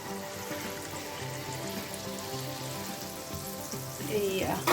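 Jalebi batter frying in hot oil in a home kitchen, giving a steady close sizzle throughout that grows louder near the end, with a faint voice underneath.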